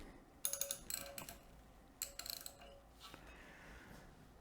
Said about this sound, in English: I grabbed a ratchet that fits.